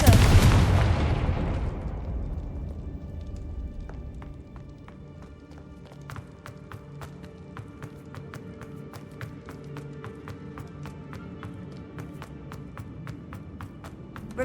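A Confringo fire spell explodes in the Hogwarts Legacy video game: one loud, close blast at the start that rumbles away over a couple of seconds into quieter game ambience dotted with light clicks and taps.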